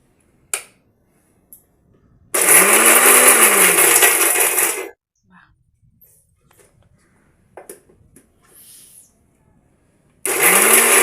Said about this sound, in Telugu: ఇవన్నీ మనం ఒక్కొక్కటిగా మిక్సీలో వేసి పొడి పొడిగా మిక్సీ వేసుకోవాలి